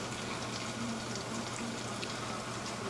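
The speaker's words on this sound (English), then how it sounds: "kind of raining, just a little bit" Light rain falls outside during a big storm, a faint, steady patter and hiss with no voices or other distinct sounds over it.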